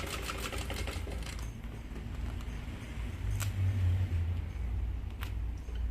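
A sewing machine stitches a medium bag, humming in a continuous low, even drone with faint ticking over it and no voices.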